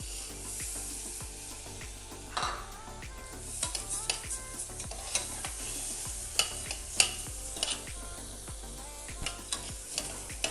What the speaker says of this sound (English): The trick to making buckwheat that doesn't get mushy in the pot is frying it first